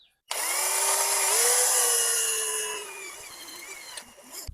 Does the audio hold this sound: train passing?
no